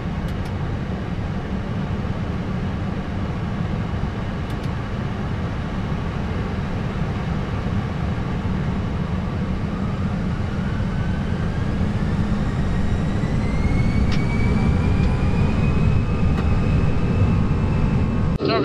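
Airbus A320 engines spooling up to takeoff thrust on a runway departing Kassel, heard from the cockpit as a loud, steady broadband roar with a whine rising in pitch partway through and growing slightly louder toward the end.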